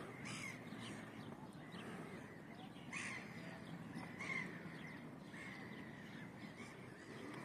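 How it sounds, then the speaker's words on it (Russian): Many gulls calling over a thawing, ice-covered lake near Yakutsk, a dense chorus of harsh overlapping cries at mid distance that rises and falls steadily throughout, with no voices. "Как их много, целая стая чаек."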